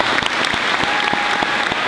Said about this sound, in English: One more round of applause for Johnny Stanton